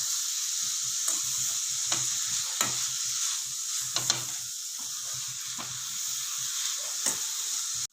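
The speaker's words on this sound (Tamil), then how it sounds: "லோ ஃப்ளேமில் வச்சு 10 நிமிஷம் கிளறி விட்டுக்கலாம்." A carrot laddu mixture is stirred in a pan over a low flame, with a steady soft sizzle and periodic scraping strokes of the spoon against the pan.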